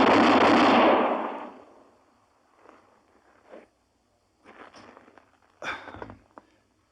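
Revolver shots at bullseye targets in a radio drama: one loud, blasting report opens and rings out into a decaying tail, followed by a few sharper, quieter cracks and thumps spaced over the next seconds.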